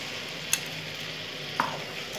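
Dum aloo bhurji of spiced potatoes cooking down in a pan gives a soft continuous sizzle, with two brief spatula scrapes or taps against the pan.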